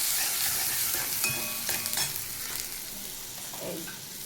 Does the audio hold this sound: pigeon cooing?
no